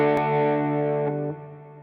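An electric guitar with distortion, played through a Line 6 Helix, holds a thick, buzzing sustained chord that rings loudly with a few pick attacks, then drops in level and decays near the end.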